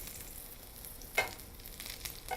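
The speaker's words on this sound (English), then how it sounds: "Drop it in and see if it sizzles." Oil sizzling in a hot stir-fry pan as something is dropped in, a sudden hissing burst about midway that fades into a steady soft crackle, with another small flare near the end; no talking.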